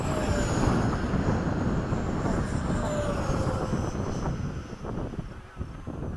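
A Freewing 80mm MiG-21 radio-controlled ducted-fan jet flies past over a runway, a steady loud whooshing roar with wind noise that fades slightly as it moves away.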